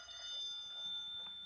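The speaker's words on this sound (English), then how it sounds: "He was here maybe 2 hours when the phone rang." A telephone rings briefly in a 1940s radio drama, a short electric bell trill heard once, quiet and close, with no voices.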